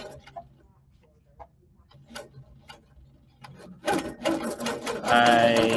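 A long arm quilting machine starts up after a few quiet ticks, its stitching building into a loud, steady mechanical whir close by.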